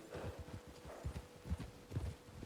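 Horse hooves in the video game RedM, a quick clip-clop of trotting hooves on the ground, fairly close and quiet, rhythmic and uneven in strength, with no talking.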